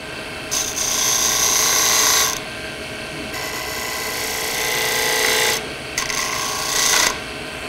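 Wood spindle turning on a lathe with a homemade high-speed steel skew chisel, loud rasping cutting passes in several long bursts separated by short breaks, over a steady machine hum.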